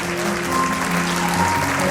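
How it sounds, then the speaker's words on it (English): Audience applause for students at a school annual day function, a short burst of steady clapping over a sustained low musical tone. "one more round of applause for all the students before you leave"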